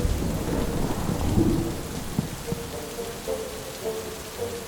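Steady rain hisses while low thunder rumbles and rolls in the distance, with a few soft drops tapping nearby.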